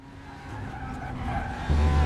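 A race car in the RaceRoom racing game brakes hard, its engine droning and rising as the tires squeal and skid, ending in a louder low roar.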